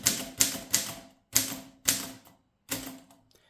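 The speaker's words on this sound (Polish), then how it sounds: "Dźwięk dzwonka na kilka odstępów przed zakończeniem możliwości pisania." A Groma N manual typewriter clacks through a few irregular keystrokes, each a sharp close strike with a brief ringing tail, separated by short pauses, with no talking.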